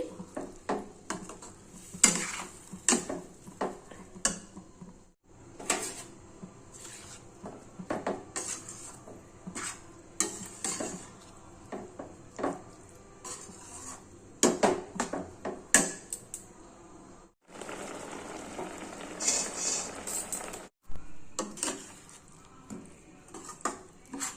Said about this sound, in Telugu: ఇట్లా సైడ్లకంతా అనుకుంటూ కలపాలండి